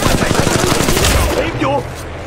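Rapid automatic gunfire from a VK-47 in the mobile shooter Apex Legends Mobile, a dense burst of shots that tails off into game effects within about two seconds.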